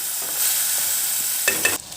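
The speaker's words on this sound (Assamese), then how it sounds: "এয়া মোৰ ভেন্দি ভাজি হৈ গ'ল" Okra sizzles steadily in a hot pan on a home stove, a continuous close fry with a couple of brief scrapes or stirs near the end before the hiss drops away.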